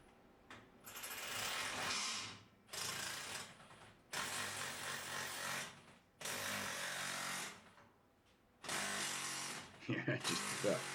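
Milwaukee power tool ratcheting a bolt tight through an oversized washer in a workshop, four loud bursts of rapid mechanical clattering separated by short pauses, with someone speaking briefly at the end.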